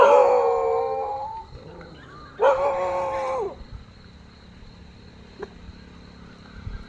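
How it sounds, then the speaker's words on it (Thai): Dogs outside a home in Thailand let out two long, loud howls close by during a morning alms offering, then fall quiet apart from a faint tap. "หมาหมาข้างหน้า คอยจะกวดคอยจะเห่า"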